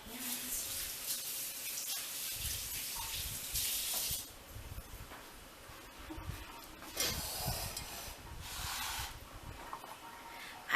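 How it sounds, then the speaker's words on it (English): Running tap water hisses and splashes as hands are rinsed in a kitchen sink, a steady faint stream with brief louder surges of water hitting skin and basin. "Rinse my hands."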